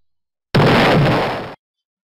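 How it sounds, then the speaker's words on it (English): A single loud shotgun blast fired at a sporting clay target on an outdoor sporting clays course, a sharp close boom that sustains about a second before cutting off, with no talk. "that's the final shot I'm going to take"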